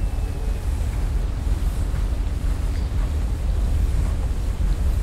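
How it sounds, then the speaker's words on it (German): Water draining in the Trine II video game, a steady broadband rushing and churning roar with a low-heavy wash that holds at an even, fairly loud level throughout, with no voices. "jetzt pumpt das Wasser ab"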